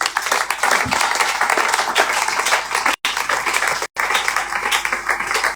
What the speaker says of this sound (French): On peut acclamer deux fois pour Jésus.